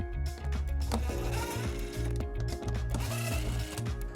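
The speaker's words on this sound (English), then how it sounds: "We're going to remove those using a 10mm socket." A 10mm socket removes screws from the underbody panel of a 2017 Toyota Sienna, giving a busy, continuous whirring and ratcheting mechanical noise at close range throughout.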